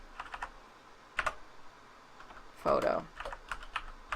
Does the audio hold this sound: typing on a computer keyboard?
yes